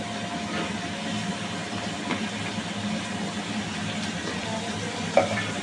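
Onions fry in a pan for mint pulao, giving a soft, continuous sizzle with a faint stir or clink near the end. No one speaks.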